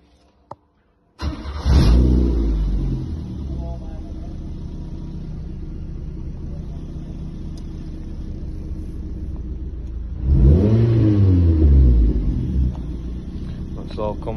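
A Suzuki Swift hatchback fresh from a custom stage one remap and EGR software change cranks and catches into a deep, steady idle. Later it revs up in one rising and falling blip, recorded close with a voice talking.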